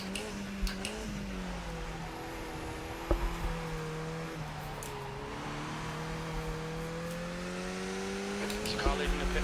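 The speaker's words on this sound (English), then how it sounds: "There's a car leaving the pit lane." A Skip Barber race car at Spa in the iRacing sim leaves the pit lane. Its engine drones with a steady whine that dips and climbs through gear changes, and there is a sharp click partway through.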